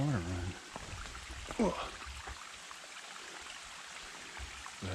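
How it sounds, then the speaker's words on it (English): Steady rushing of water from a stream in the woods off-trail on a North Carolina mountain ridge, a continuous broadband hiss under a brief voice and a few nearby sounds. "I hear more water running."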